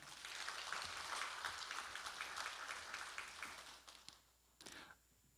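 An audience applauds to welcome an arriving district official at a real estate tax briefing session, a steady wash of clapping from a crowd that fades out, followed by a couple of brief clicks.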